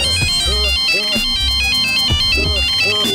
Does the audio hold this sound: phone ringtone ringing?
yes